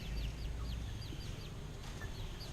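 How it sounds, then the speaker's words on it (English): Chickens, including small young ones, cluck and chirp in short repeated calls over a steady low outdoor background, with no voices. "Hey chickens."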